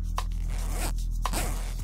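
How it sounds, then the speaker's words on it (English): A jacket zipper slid back and forth in two quick passes, each a close, rasping zip with a brief pause between, alone over a low steady hum. "I wish Brooke would leave that zipper alone."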